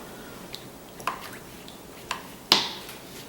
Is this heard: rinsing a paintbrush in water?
yes